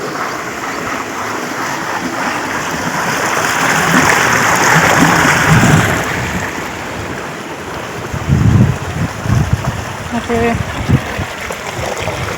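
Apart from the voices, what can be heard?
irrigation water flowing into tobacco field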